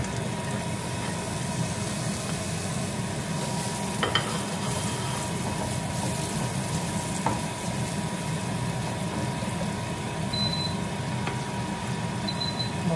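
Onions sizzle steadily in a preheated pan, a continuous even frying hiss with faint clinks of stirring and no talking.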